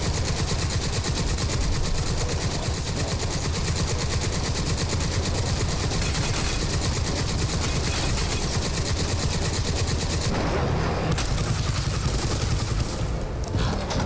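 Sustained automatic gunfire from the video game Crysis 2, loud and nearly unbroken bursts of rapid shots running the whole stretch, with a brief thinning near the end and no talk.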